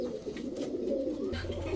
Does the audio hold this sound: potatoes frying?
no